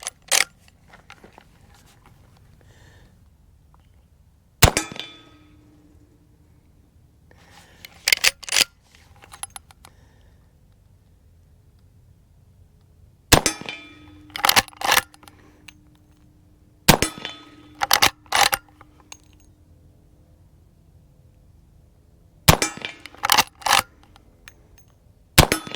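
Rifle fire from an 1892 Winchester loaded with 115 grain lead flat-nose rounds: sharp, loud single shots spaced several seconds apart, some in quick pairs, each with a short ringing tail and metallic action clicks between them.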